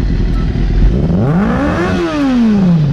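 A 1999 Kawasaki ZX6R inline-four sport bike with an R9 pipe revs up hard close by, its engine note climbing steeply into a high scream and then falling back, loud and unbroken.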